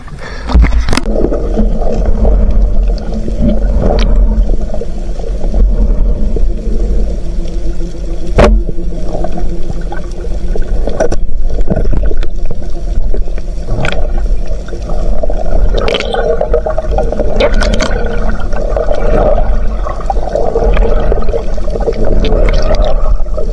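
Strong wind and waves buffet a small boat, a loud, constant rumble broken by sharp knocks, slaps and creaks from the hull.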